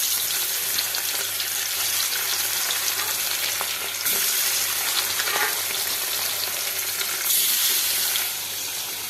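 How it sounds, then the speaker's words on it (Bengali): Pieces of belly fish fry in a pan at home, a steady close sizzle running throughout with occasional stirring clinks and scrapes, no talking. "এগুলো আরেকবার ভেজে নেব।"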